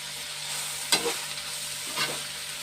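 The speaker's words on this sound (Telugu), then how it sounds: "వేగుతున్నాయండి." Onion pieces fry in a pan with a steady close sizzle, broken by two brief scraping stirs of a spoon, with no talking.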